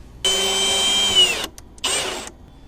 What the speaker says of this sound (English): I've got 2 drywall screws, so let's just screw this right into the side of the plastic here.